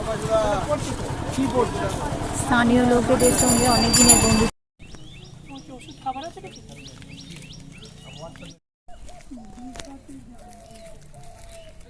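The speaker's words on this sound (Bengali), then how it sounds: "ব্যাকগ্রাউন্ডে পাখির আওয়াজ শুনতে পাচ্ছেন নিশ্চয়ই। পিউ কাহা ডাকছে পাপিয়া।" A common hawk-cuckoo (papiha) gives repeated, rising whistled calls in the background, moderately faint, while people converse nearby.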